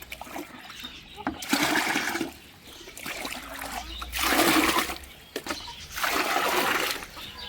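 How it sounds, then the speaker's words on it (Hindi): Water is drained and poured into a guppy fish tank in repeated gushing, splashing pours separated by short pauses, with someone talking quietly in between. "अब इसका पानी हमें आधा निकाल के आधा पुराना पानी डालना पड़ेगा वहाँ से"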